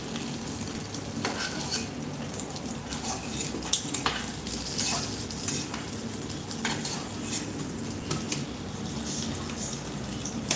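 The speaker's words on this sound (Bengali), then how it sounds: "মাছের ঝোল হবে এই জন্য ভাজা হচ্ছে" Assorted local pond fish frying in oil, a continuous close sizzle and crackle with occasional utensil clinks, steady throughout and no voices.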